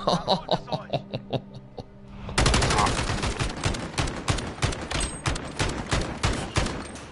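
Rapid automatic gunfire from a weapon in a Modern Warfare gunfight match, with sparse shots at first, then a loud sustained burst of dense repeated shots with heavy recoil, some laughter mixed in near the start.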